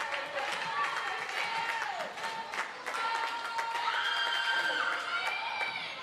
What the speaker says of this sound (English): Again, the crowd is on their feet. They're cheering for the Highlanders.